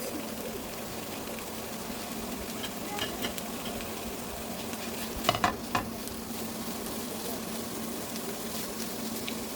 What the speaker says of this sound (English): cut the longaniza in pieces once you start cooking it. And I'm just going to cook it for maybe a minute.